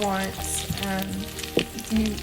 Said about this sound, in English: you can see the salmon sizzling in the pan